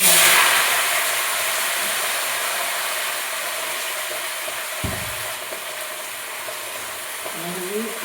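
Bottle gourd frying in a pan after tempering with spices, a steady broadband sizzle that is loudest at the start and settles slightly, with a soft stir or knock partway through.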